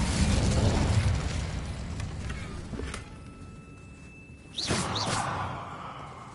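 Incendio fire spell in Hogwarts Legacy, a rushing whoosh that swells into a sudden fiery burst with a crackling, sizzling tail, set against a rumbling ambient backdrop with a faint tonal hum before it.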